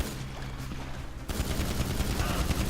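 Rapid gunfire erupts in a shooter video game on Xbox, with muffled background noise giving way to a dense, continuous volley of shots that stays steady and fairly loud until the end.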